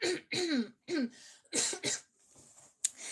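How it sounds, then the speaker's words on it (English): A person coughs hard several times in quick, rough bursts, pausing between them, followed by a softer throat-clearing rasp close by. "another coughing break."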